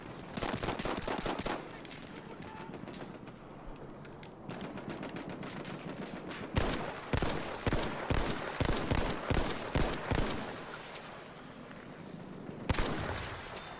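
Gunfire in the video game Battlefield 1, with bursts of rapid automatic shots and single cracks in uneven clusters, fairly loud, with quiet gaps between volleys.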